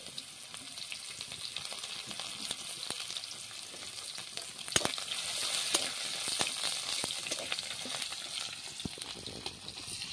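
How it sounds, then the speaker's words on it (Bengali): Chopped onion with bay leaf and five-spice fries in a pan, a steady soft sizzle with occasional sharp pops and stirring clicks. "পেঁয়াজটা একটু লাল লাল করে ভাজতে থাকবো"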